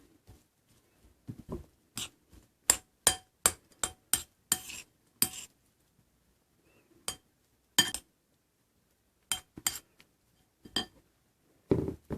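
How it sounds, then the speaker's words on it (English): Salad ingredients being tossed together in a bowl, a series of sharp clinks and taps from utensils against the dish, spaced irregularly with quiet gaps between. "Just going to mix it all together here."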